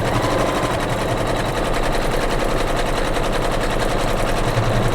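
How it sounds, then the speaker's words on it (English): An embroidery machine stitches a watermelon block design on fabric for a patriotic pillow, a loud, steady rapid needle rhythm running without pause. "We are stitching number 6 of the embroidery file."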